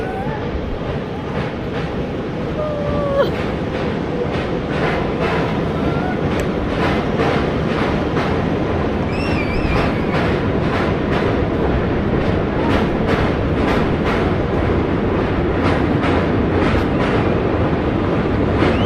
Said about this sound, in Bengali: একটু পরেই ট্রেন ঢুকবে এবং এই পুল নাম্বার 27 ক্রস করবে